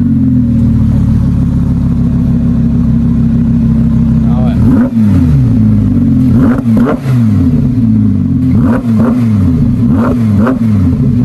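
An Audi R8 V10 with an aftermarket Milltek cat-back exhaust gives a loud, sustained engine drone that climbs into repeated sharp rev blips in the second half, with the exhaust note dominating throughout.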